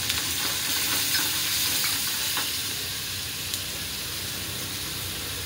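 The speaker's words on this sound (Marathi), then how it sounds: "थोडंसं तीळ टाकूया पांढरं, मिरची टाकूया" White sesame seeds and chili crackle and sizzle in hot oil, a steady bright frying hiss with small pops, close and loud, while potato paratha filling is prepared.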